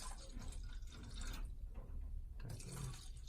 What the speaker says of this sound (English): So I'm gonna pour this tap water.